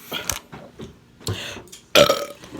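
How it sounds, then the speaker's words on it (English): Several loud, close burps during a chicken Alfredo mukbang, each a short guttural belch with pauses between, the last ones longest and strongest. "Fam, y'all will get some burps."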